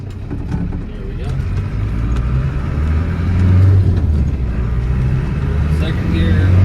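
A 1992 Land Rover Defender 110 with the 200Tdi diesel pulls away in first gear, its low engine drone steady and close, building slightly as it goes, with road and cabin rumble underneath.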